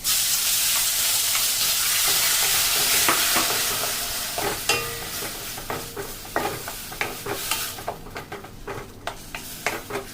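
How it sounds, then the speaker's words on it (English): Chopped tomatoes saute in a pan with fried garlic, a loud steady sizzle that settles into bursts of spoon stirring and scraping near the end. "We'll saute our chopped tomatoes."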